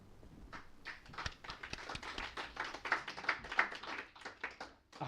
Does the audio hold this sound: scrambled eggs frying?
no